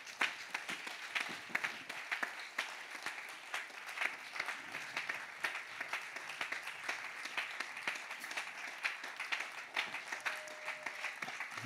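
A congregation claps in continuous, steady applause to acclaim the Lord at a church worship service, a dense, fairly faint patter of many hands with no voices standing out.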